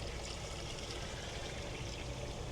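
Organic tomato insecticide mix being poured into a 4-gallon garden sprayer, a steady, fairly quiet rushing stream of liquid with no break, heard alone.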